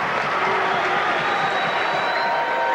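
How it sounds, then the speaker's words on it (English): Basketball crowd at a Waynesburg vs St Vincent district semifinal game, 1985-86 season, cheering and applauding steadily as a continuous, moderately loud wash of noise with a commentator's voice faintly underneath. "Crowd starting to get back into it."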